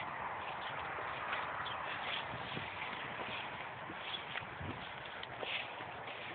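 Several horses walk outdoors with soft, irregular hoof clops over a steady wash of background noise, fairly faint and without speech.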